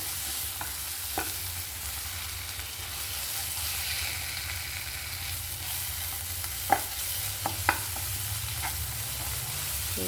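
Shrimp roast fries in a pan while being stirred, producing a loud, steady sizzle with a few sharp utensil scrapes and taps near the end and no speech.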